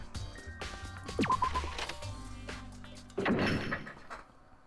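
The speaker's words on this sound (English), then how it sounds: "Soon as the door to the data lab was closed, I heard a strange sound." In the Danganronpa video game, a data lab door slides shut with a heavy thud, followed by a mechanical locking clunk, amid game music and effects.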